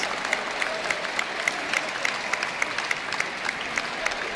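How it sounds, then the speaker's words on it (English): Crowd at a speedcubing competition breaks into applause and cheering, dense clapping with sharp individual claps and whistles popping out at regular intervals, loud and close for a few seconds. "And the crowd goes wild."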